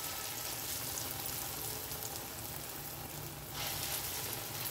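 Red lentil fritters (bora) fry in hot oil with a steady, dense sizzle that carries on alone throughout, briefly dipping before resuming at full strength.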